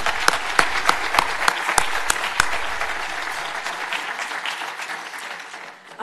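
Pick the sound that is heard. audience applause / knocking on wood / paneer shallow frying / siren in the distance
audience applause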